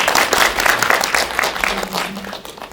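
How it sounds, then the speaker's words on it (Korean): Audience at a Korean film screening talk in a cinema clapping, a brief burst of dense applause that fades out within a few seconds. "큰 박수 부탁드리겠습니다."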